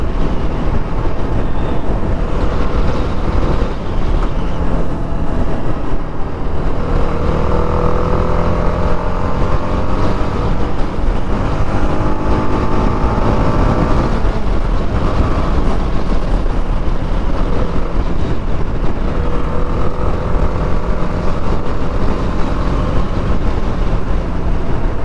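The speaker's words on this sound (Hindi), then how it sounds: "अब बाइक उठ रही है गाइस" A TVS Apache RR 310 motorcycle ridden at speed after an ECU update, its engine droning steadily and loudly for the whole stretch with rising and falling pitch as it pulls through the gears, mixed with wind rush.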